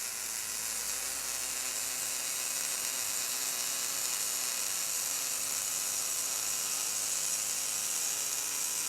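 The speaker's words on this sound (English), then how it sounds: "Turn on the bore welder gun rotation with the bore welder switch" A bore welder gun turns steadily while set up for bore welding a worn bore on heavy Caterpillar or Case equipment, giving off a constant mechanical whir with a fine ratcheting texture that holds at an even level throughout.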